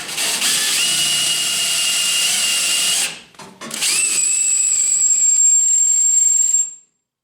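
A power drill enlarges a hole in a 4x4 fender with a loud, steady whirring grind. It breaks off briefly around the middle, spins up again for a few more seconds, ends in a thin high squeal and then cuts to silence.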